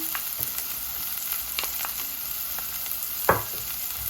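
Chopped fresh garlic frying in a pan for Jamaican callaloo gives a steady close sizzle, with light utensil scrapes and one sharper clack as it is stirred.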